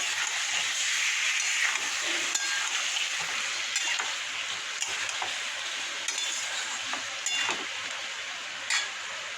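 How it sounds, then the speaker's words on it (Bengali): Potatoes tossed with spices fry in a wok, giving a steady, close sizzle with occasional spatula scrapes and light metallic clinks, and no talking throughout. "মশলা দিয়ে আলুটা কষানো হয়ে গেছে"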